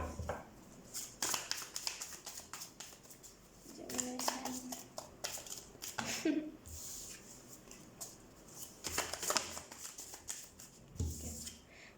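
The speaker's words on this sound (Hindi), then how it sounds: "सबसे पहले हम इस वाले डेक से शफल कर लेते हैं आपके लिए कार्ड्स" Tarot cards shuffled by hand in repeated riffling bursts, crisp papery flutters close to the listener, separated by soft taps and handling noise, with occasional quiet talk in between.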